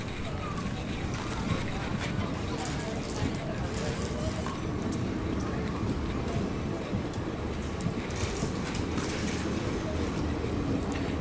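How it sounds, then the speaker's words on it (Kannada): A Hubli-to-Tirupati train passes during a crossing at Ginigera junction, heard from aboard another train: a steady, loud rumble and rattle of wheels and carriages that runs unbroken throughout. "ಗಿಣಿಗೆರೆ ಜಂಕ್ಷನಲ್ಲಿ ನಮ್ಮದು ಕ್ರಾಸಿಂಗ್ ಆಗ್ತಿದೆ ಹುಬ್ಳಿಯಿಂದ ತಿರುಪತಿಗೆ ಹೋಗುವ ಟ್ರೈನ್ ಜೊತೆ."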